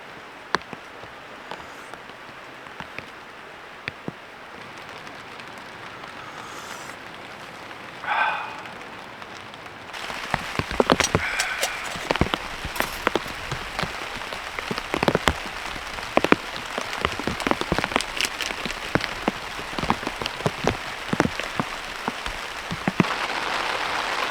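Heavy rain pounding a tarp at a riverside camp, a dense, loud patter with sharp individual drop hits that grows much heavier partway through, steady and close with no talking.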